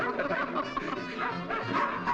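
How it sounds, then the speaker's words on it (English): Dogs bark and yip in a 1940s Boston Blackie crime film, a dense, continuous clamour of several animals filling the scene at moderate loudness. "get those dogs out of here"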